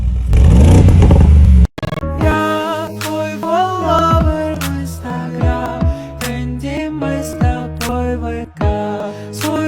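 A loud, rough engine rev roars for about a second and a half, then cuts off abruptly as music with a melodic voice takes over.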